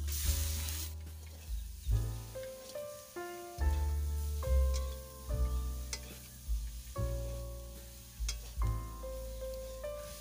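Boiled whole lentils are tipped into a frying egg mixture in a pan and sizzle in bursts, with a spoon stirring and scraping between them, close and moderately loud with no talking.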